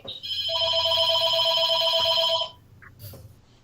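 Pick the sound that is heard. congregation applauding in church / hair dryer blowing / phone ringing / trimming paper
phone ringing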